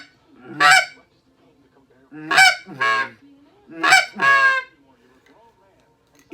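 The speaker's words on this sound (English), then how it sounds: "Then the Goose Call by S2 Calls. It's another easy call." An S2 Calls goose call blown with little air, giving three loud, close honking notes in a row, each a short double-toned blast separated by brief silences.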